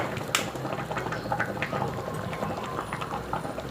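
Thai sour curry with mustard greens and red tilapia boiling in a pot, giving a dense, continuous close bubbling rumble with small popping bursts throughout and no talking.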